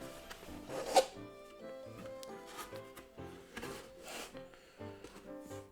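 Cardboard rubs and scrapes up close as the box of a Chronojet premium stride skateboard deck set is opened, with soft handling noises and one sharper knock early on.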